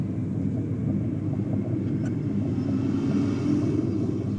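A Supra launches off the drag strip line, heard as a steady low engine rumble and roar from some distance, fairly even in loudness with no voices over it.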